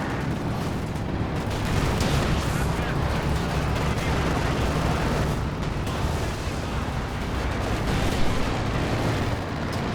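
Company of Heroes 2 battle as an IL-2 ground-attack aircraft strafes infantry, a continuous dense roar of gunfire and explosions under a commentator's voice.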